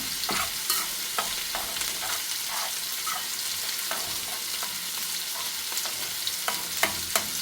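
Dal cooked with turmeric being stirred in a pan, giving a steady soft scraping and sizzling texture with scattered sharp spoon clicks against the metal throughout, close and moderately loud, no voices.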